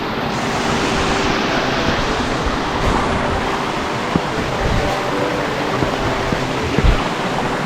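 A waterfall on the Fiery Gizzard trail roars in a loud, unbroken broadband rush that fills the whole stretch, with a few faint knocks and no talking.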